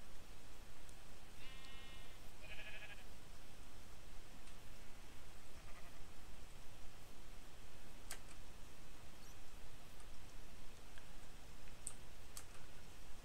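Sheep bleating in Minecraft, two short wavering bleats early on over a faint steady background hiss, followed by scattered light clicks.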